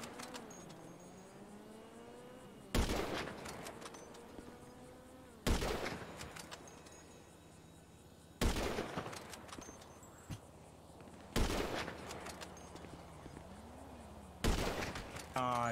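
Sniper fire in GTA Online's Drop Zone adversary mode, five loud single cracks spaced roughly three seconds apart over a low engine drone and game ambience.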